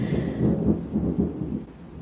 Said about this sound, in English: I don't know if y'all just heard that thunder.